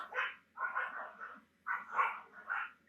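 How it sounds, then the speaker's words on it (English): A neighbour's dog barks in muffled groups of yips and woofs from another property, faint and a little distant, with short pauses between bursts. "Ignore my neighbor's dog."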